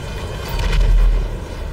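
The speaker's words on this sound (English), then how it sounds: "Alright, I just blew up my plane." A plane crashing and exploding in GTA 5 Online gives a single deep, rumbling boom that swells and fades over about two seconds, loud and close, with no talk.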